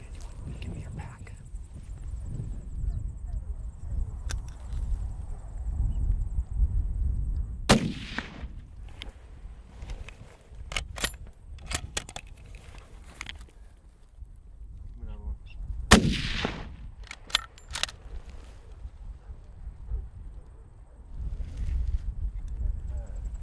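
A hunter's rifle fires at a tahr in open mountain country, two sharp loud cracks several seconds apart over steady wind and outdoor background noise.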